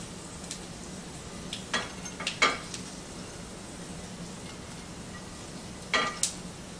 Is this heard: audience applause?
no